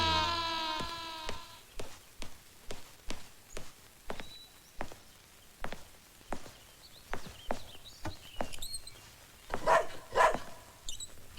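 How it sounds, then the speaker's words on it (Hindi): A pet dog named Romeo barking indoors at a house, a steady series of about a dozen sharp barks at an even pace, fairly close and clear, with no talking over them. "ये रोमियो क्यों भौंक रहा है?"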